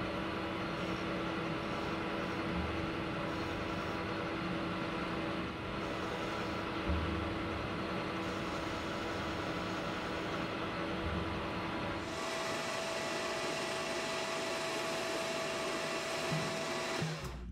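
Metal lathe parting off a machined part, a steady close whirring and grinding hum that runs throughout and shifts tone near the end as the cut finishes.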